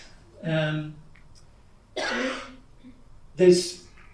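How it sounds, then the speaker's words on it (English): Three separate throat-clearing coughs, close and fairly loud, spaced a second or so apart with quiet between. "Let me have a cough"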